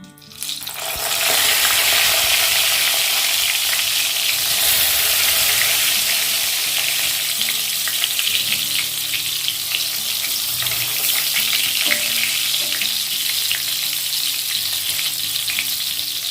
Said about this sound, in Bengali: এবার আমি একে একে বেগুনগুলো ছেড়ে দেব ভাজার জন্য।